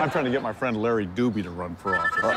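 A phone rings, a short electronic tone sounding near the end beneath steady close-up conversation.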